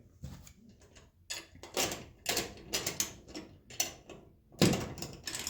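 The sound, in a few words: screws being driven in while mounting fog lights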